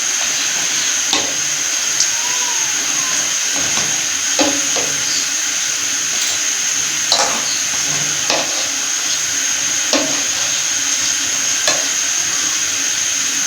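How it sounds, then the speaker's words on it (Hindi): Aloo samosas deep-frying in hot oil give a steady, close sizzling hiss, broken by small spatters and pops at irregular moments, with no talking. "इस तरह व्यूअर्स आपने सारे समोसे डाल देने हैं और सेम प्रोसेस है, इस तरह आपने कुकिंग करना है"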